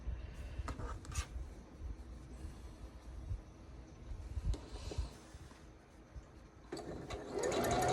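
A sewing machine stitches a quilt in quick runs of rapid mechanical clatter, close but fairly soft, with brief pauses and a slight rise in noise toward the end.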